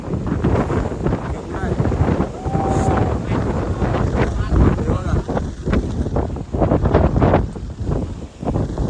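Strong wind buffets the microphone in loud, continuous rumbling gusts throughout on a trek to Rajmachi Fort in Maharashtra, with a voice speaking briefly partway through.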